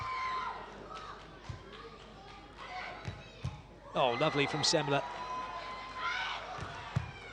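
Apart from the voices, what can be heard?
beach volleyball crowd cheering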